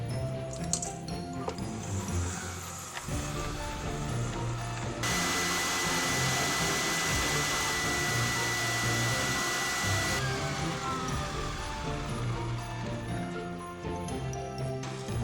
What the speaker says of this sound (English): I'm going to cream this on high speed with my mixer.